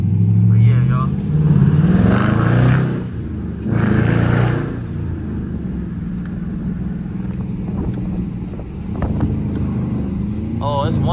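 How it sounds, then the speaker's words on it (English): Dodge Charger R/T V8 with mid-muffler and resonator delete, driven with no hood, gives a loud, deep exhaust rumble with two stronger surges early on that settle into a steady drone, with someone talking over it. "You guys want to know what I did to the exhaust? Mid muffler delete and resonator delete."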